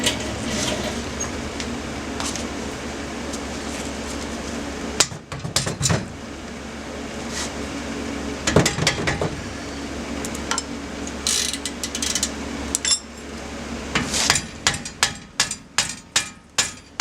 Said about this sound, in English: So I'm breaking them loose with the hammer